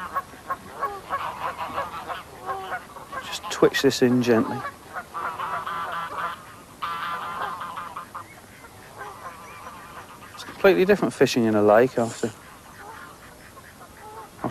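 Mallard crosses quack and geese honk in bursts across a lake with an island, a noisy squabble carrying from a distance while someone talks calmly throughout about trout fishing.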